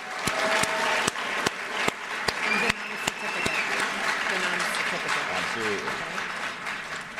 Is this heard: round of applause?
yes